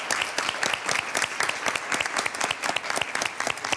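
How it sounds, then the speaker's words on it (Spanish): Loud, dense applause from an audience at a university event, honoring the winning university team, steady clapping throughout with no talk. "Un aplauso muy fuerte para ellos,"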